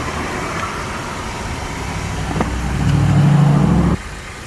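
A 2020 Ford Transit Connect engine runs just after starting, with a steady idle that swells into a louder, fuller drone for about a second before dropping back to a quieter hum.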